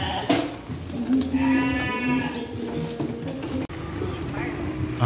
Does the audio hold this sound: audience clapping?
no